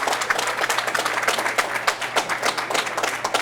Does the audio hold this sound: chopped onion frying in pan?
no